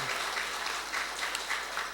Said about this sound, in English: I think we should give them a round of applause for this beautiful rendition.